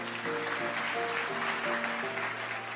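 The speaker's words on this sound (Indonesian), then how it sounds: "Yang percaya kasih tepuk tangan untuk Tuhan Yesus" A church congregation claps steadily in a dense, continuous wash, with sustained keyboard or organ chords ringing over the applause throughout.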